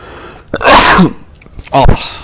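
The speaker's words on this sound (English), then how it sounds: "It's the worst when a sneeze gets stuck." A stuck sneeze finally breaks free up close as a sharp, loud nasal burst, followed a moment later by a second, shorter blast.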